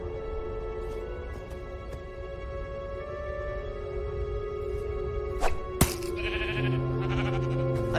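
A sheep bleats repeatedly in the Minecraft Story Mode video game, the calls clear over a steady game soundtrack hum, with a couple of sharp clicks and a brief sustained tone near the end.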